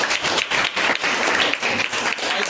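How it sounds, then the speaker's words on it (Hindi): Students in a science classroom clap together after a class 8 air-pressure activity, a loud burst of rhythmic, roughly synchronized claps with brief gaps between beats. "बजाओ ताली से।"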